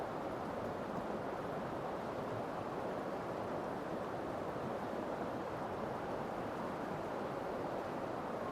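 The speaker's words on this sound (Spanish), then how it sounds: "el sonido de las olas" Ocean waves on the shore of Península Mitre on a cold, snowy night: a continuous, even roar of surf and rushing water, broad and steady throughout with no distinct breaks and no voices.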